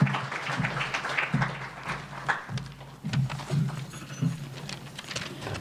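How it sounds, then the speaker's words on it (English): An audience at an evening tribute event claps to welcome a speaker, an uneven patter of hands of varying strength rising and falling through the room, with a few sharper claps close by. "So let's all welcome her with a round of applause,"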